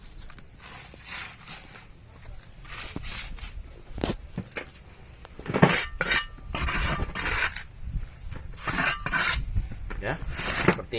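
Cocopeat seedling medium being mixed and scraped together by hand while preparing to sow kale, mustard greens and zucchini, giving dry rustling, rasping and scraping bursts in irregular handfuls, close by.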